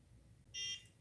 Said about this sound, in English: hold it for 2 beeps.